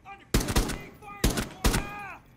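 Gunfire in the video game Rainbow Six Siege: three loud, abrupt bursts of shots at irregular spacing, close and punchy, with brief game sound between and no talk heard.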